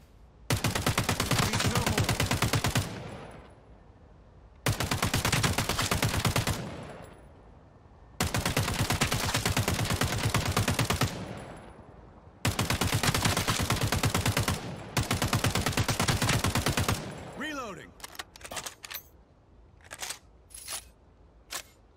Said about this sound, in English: MG4 light machine gun that does 17 damage to the upper body and has a fire rate of 9